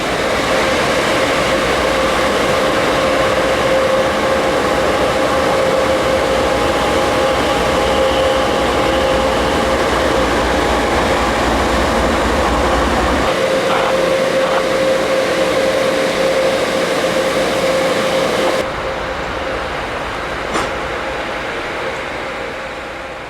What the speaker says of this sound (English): Amtrak washes the auto train passenger cars after every trip. It's just like a car wash,